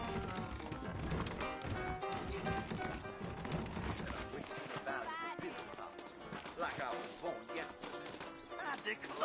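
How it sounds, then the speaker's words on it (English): In the Red Dead Redemption video game, horses clip-clop at a steady walking rhythm and give a brief neigh, with speech and other game sounds layered over the hooves. "I got the horses saddled up and ready out front."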